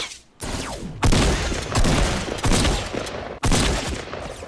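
Rapid bursts of gunfire from a player shooting in Fortnite, loud and close. Several dense volleys crackle one after another with brief gaps between them, and no talking is heard.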